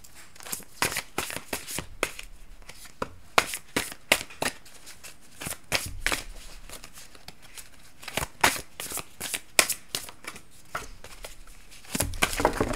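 Oracle cards are shuffled and cut by hand in quick, crisp riffling and slapping bursts that repeat irregularly throughout, close and fairly loud.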